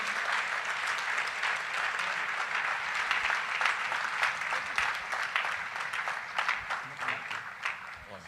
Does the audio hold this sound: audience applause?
yes